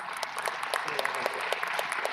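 Audience applause at the Spacecon award ceremony, welcoming a presenter to the stage; dense, steady clapping from a sizeable crowd with scattered sharper claps, continuous throughout.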